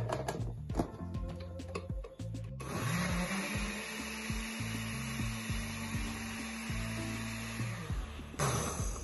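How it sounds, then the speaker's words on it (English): An electric blender whirs loudly and steadily for several seconds, blending chilled mango soup with a scoop of vanilla ice cream. Scattered knocks and clatter come first, then the motor kicks in and runs without a break until it cuts off near the end. "I'm gonna put the blend again"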